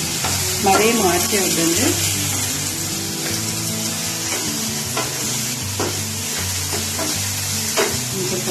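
Onions frying in a pan for palak paneer hiss in a steady, close sizzle, with scattered spatula scrapes and taps throughout and a brief spoken remark near the start.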